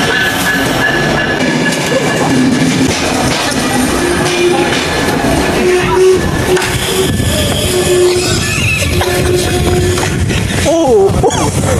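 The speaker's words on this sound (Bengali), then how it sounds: "ট্রেন চলে আসছে" A train pulling into a station on the Kushtia to Dhaka line in Bangladesh: a loud, continuous rumble with clattering wheels and a few high wheel squeals near the end, while faint voices sound in the background.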